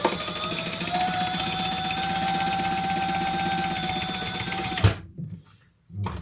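A sewing machine stitches around the top of a crossbody bag, a fast steady mechanical whir and rapid needle rattle running for about five seconds before stopping abruptly, followed by a few faint handling noises.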